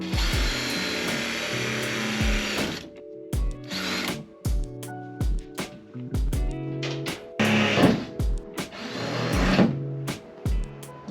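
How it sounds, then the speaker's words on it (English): A power drill drills holes through the body of a Ford Transit van in repeated short bursts with brief pauses between, close and loud, the motor pitch rising and falling as it bites. "Then I take this drill bit and I go boom and boom."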